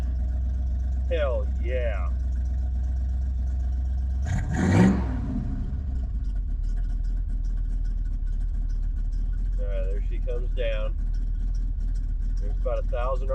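A 1976 Ford Ranchero engine idles at about 1,000 RPM as a steady low rumble, with one brief louder burst midway and someone talking intermittently over it.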